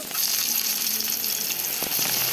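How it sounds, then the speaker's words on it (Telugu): Fenugreek and cumin seeds crackle and sizzle in hot oil in a wok-style pan, a loud, steady frying hiss with a few sharper pops, close up and without talk. "బాండీలో నూనె అయితే వేడెక్కింది ఈసారి కాస్త మెంతులు అలాగే కొద్దిగా జీలకర్ర అయితే వేసేసాను"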